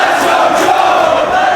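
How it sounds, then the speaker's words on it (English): Wrestling crowd in a Buffalo arena raising dueling chants, a dense, loud roar of many voices filling the space continuously with no break. "As the dueling chants go up once again here in Buffalo"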